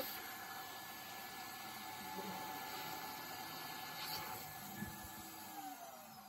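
A small electric blower runs continuously with a steady whirring hiss and a faint high whine, fairly quiet and unchanging.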